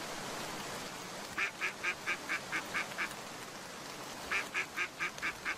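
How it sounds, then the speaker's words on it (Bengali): Cartoon duck quacking in two bursts of rapid repeated nasal quacks, six or seven in each run, over a soft steady background hiss. "ওই তো একটা হাঁস"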